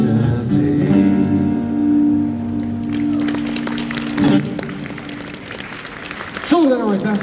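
Audience applause follows an acoustic concert, a dense clapping wash rising after the final sung and strummed notes, with someone speaking over the close.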